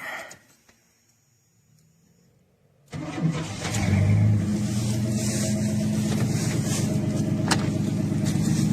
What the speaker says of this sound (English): Crank it back up so I run the jack.